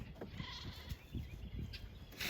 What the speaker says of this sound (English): this is a little myotonic fainting goat, and she does faint easily